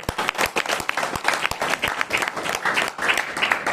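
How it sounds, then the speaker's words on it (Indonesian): An audience applauds for a company founder at an ABCS Group Indonesia business event, a steady close clapping with many hands, irregular sharp claps over a continuous crowd wash. "berikan sekali lagi aplaus yang meriah untuk founder ya"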